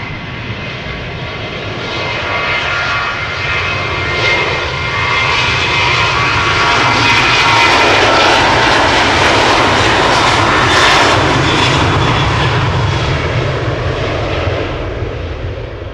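Delta Airlines Airbus A350 jet departing Schiphol, a loud continuous engine roar that swells and stays strong, with no talk over it.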